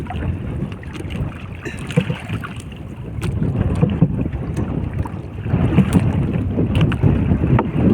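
Strong wind buffets a microphone out on the water during fishing, a rough, continuous roar that swells louder midway, with faint splashes and knocks from a boat.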